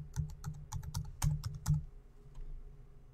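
Rapid clicking keystrokes on a computer keyboard as a password is entered, a quick burst of about a dozen close taps that stops after under two seconds, leaving quiet room tone.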